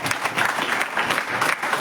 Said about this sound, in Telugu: చప్పట్లు కొడదా.